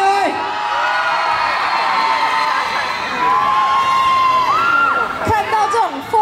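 A crowd shrieks and cheers at a K-pop street dance showcase during a shopping mall's opening week, with loud, sustained high-pitched screams and whoops rising and falling throughout.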